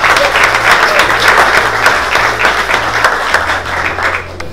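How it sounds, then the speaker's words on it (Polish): Sustained applause from an audience at a business awards gala, steady and dense clapping over a low bass music bed. "Wielkie brawa!"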